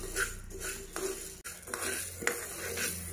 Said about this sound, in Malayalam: ഇതുപോലെ നന്നായിട്ട് റോസ്റ്റ് ചെയ്തെടുക്കണം